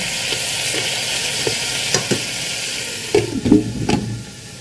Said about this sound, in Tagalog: kaya halu-haluin po natin para po mag-even out yung pagkaka-sear ng ating pork